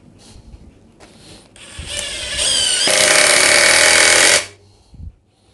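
A DeWalt DCF922M2 cordless impact wrench drives a small 3 cm screw: a short whir, then a loud, steady rattling hammer lasting about two seconds before it stops abruptly, close and alone.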